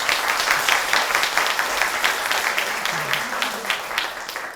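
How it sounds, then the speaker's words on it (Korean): Lecture hall audience applauds warmly, a sustained dense patter of many hands clapping at even volume throughout, with a voice faintly audible under it. "격려의 박수를 보내주십시오."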